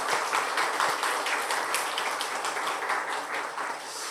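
A church congregation claps steadily during a Sunday service to encourage the children, a dense, even wash of applause that holds at the same level throughout.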